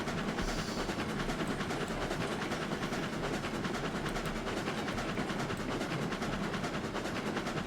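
A train in the video game RailRoads Online runs along its rails at speed, a steady rumbling roll with rhythmic clickety-clack and low engine drone, continuous and fairly loud with no voices.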